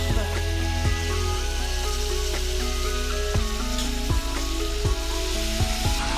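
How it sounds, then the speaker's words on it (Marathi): Mustard-seed tempering crackles and sizzles steadily in hot oil in a pan, a close, continuous frying hiss with small pops and no talking. "छान खमंग अशी फोडणी बसलेली आहे आपली."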